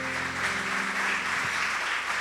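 Church congregation clapping together, a dense steady wash of applause that holds at an even level throughout, with a faint low hum underneath.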